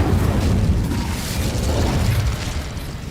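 Incendio fire spell cast in Hogwarts Legacy: a loud, sustained roaring burst of flame with a dense rumbling body, holding steady for about three seconds.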